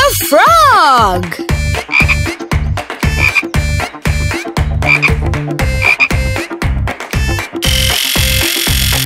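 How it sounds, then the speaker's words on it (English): Cartoon frog croaking for a children's surprise-egg reveal, a burst of repeated rhythmic croaks over bouncy music, loud and close after a rising sweep at the start. "It's a frog!"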